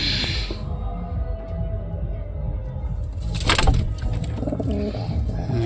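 Pigeons cooing at night in a loft setup, soft repeated coos over a steady low background hum, with a brief louder rustle midway and a few faint chirps.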